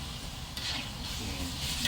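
Coconut milk sizzles and fries in a wok, a steady close hiss with stirring scrapes throughout, while santan is cooked down for ayam tumis belacan.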